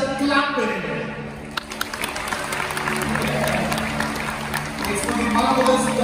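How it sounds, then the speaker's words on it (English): An audience claps and cheers at a dolphin show at the Dubai Dolphinarium, a steady wash of applause from a crowd close by, with someone speaking over it. "Where is the clapping?"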